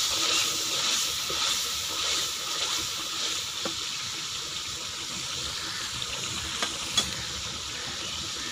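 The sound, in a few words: spice mixture being stirred and frying in a pan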